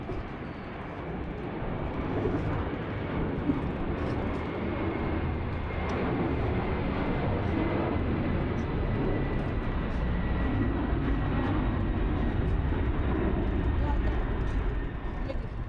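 Large passenger airplane engines roar steadily and loudly at an airport, a broad rumbling drone that never lets up, with people talking nearby.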